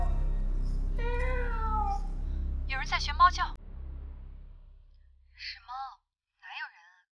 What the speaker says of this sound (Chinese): 是猫，哪有人啊？